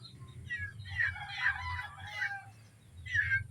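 A native chicken rooster crows twice, the second call shorter, with a low rumbling background noise throughout.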